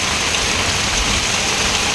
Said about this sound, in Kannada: ಮಳೆ ಸೂಪರ್ ಆಗಿದೆ